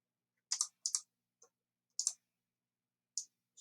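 Mouse clicks in CAD software come in sparse, crisp, close taps, a few paired, with silence between them.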